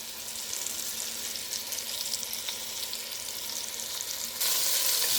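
Beef stew meat searing and browning in a pan, a steady loud sizzle and crackle of hot oil that swells brighter near the end, with no talking.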